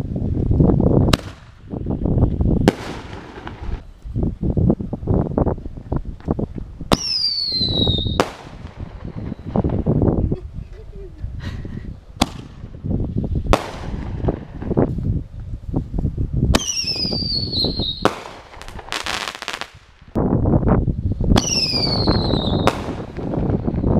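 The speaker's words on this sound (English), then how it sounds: "So I was out there shooting fireworks" Mad Hornet artillery shell fireworks fired outdoors as single shots, a series of sharp launch thumps and loud booming bursts, some with whistling crackle trails, spaced a few seconds apart.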